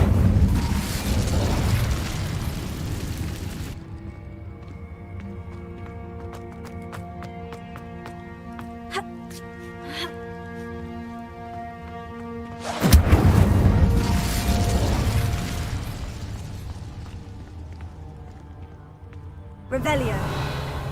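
The fire spell Incendio bursts in Hogwarts Legacy with three loud, broad whooshing blasts spaced several seconds apart, each cutting off sharply, with quieter tonal game sounds ringing in the gaps.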